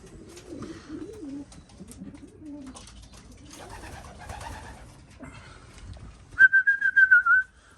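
Pigeons cooing softly in a loft holding newly arrived, somewhat sick birds, low throaty coos repeating close by, followed near the end by a brief bright whistle.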